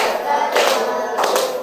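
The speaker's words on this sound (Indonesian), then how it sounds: "Tepuk tangan untuk kita semuanya" Applause from a classroom of students during an Islamic jurisprudence lesson on sacrificial animals, a steady patter of many clapping hands with brief louder surges, close and unbroken with no talk over it.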